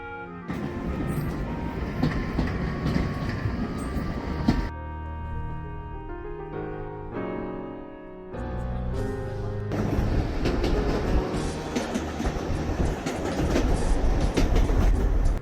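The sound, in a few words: steam locomotive train riding through the Scottish Highlands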